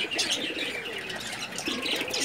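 High-flying pigeons at a loft coo softly nearby with a few chirps from other birds, a gentle layered murmur of calls throughout.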